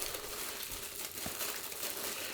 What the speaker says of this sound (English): So I also put all in the same plastic bag